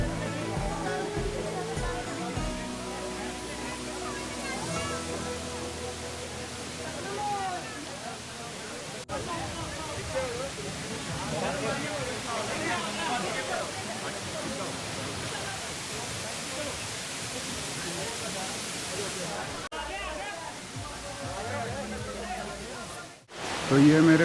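Bhagsu waterfall near Dharamshala in the Himachal hills, a broad steady rushing roar of falling water close by, continuous throughout, with someone talking over it and other voices around.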